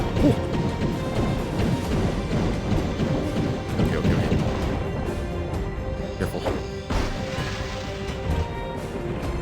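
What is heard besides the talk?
stained glass smashing in the video game Heretic/Hexen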